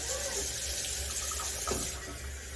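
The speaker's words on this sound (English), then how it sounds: "if I can rinse it out through where the heating element would go, using cold water" Cold water running and splashing while rinsing sediment out of a Bosch Tronic 3000T ES 2.5-gallon electric water heater tank through the heating element opening, a steady close rush with a brief splash near the end.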